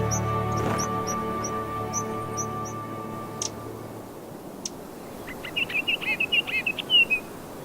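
High mountain birds give thin, high chirps and a short run of rapid tweets in cold subalpine air in Taiwan's Hehuan Mountains, faint and distant at first, with a steady hum underneath early on.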